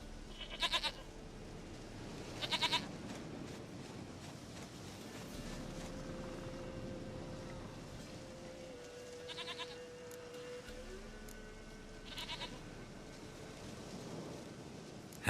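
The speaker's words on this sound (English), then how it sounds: "Goat of mine, dearest, sweetest goat." Bleating from a goat in The Witcher 3 comes in short, faint bursts spread across a steady windy, droning game ambience, with soft tonal music lines running underneath.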